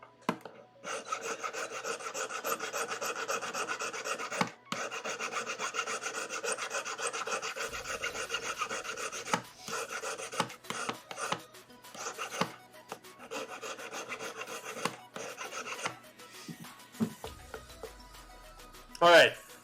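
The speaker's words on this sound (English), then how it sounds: "So now we gotta smooth all those out and make the ring nice and round." Metal ring being filed by hand to smooth out hammer marks during jewelry repair: close, quiet rasping strokes in rhythmic bursts with short pauses between passes.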